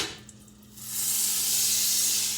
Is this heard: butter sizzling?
yes